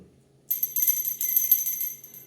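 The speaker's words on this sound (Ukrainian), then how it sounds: "Лунає шостий дзвоник." A small bell rings with a bright, high, sustained shimmer that starts abruptly, pulses slightly and fades toward the end, close and clear with no talk.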